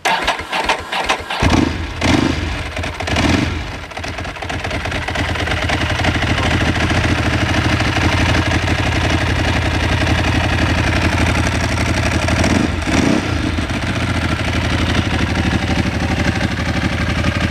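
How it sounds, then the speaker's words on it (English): A 749 sport motorcycle with an aftermarket Termi exhaust starts and settles into a steady, loud idle with a deep, throaty exhaust note, running continuously without talk. "And that's what a 749 with a Termi exhaust sounds like."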